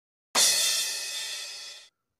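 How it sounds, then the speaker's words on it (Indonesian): A single crash cymbal struck once, bright and loud, its shimmering wash sustaining and slowly fading over about a second and a half. "Kemudian ketuk crash."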